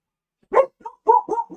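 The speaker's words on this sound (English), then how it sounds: "And dog's gonna bark." Dog barking nearby in a home, a quick burst of about four or five short barks in close succession, fairly loud against silence.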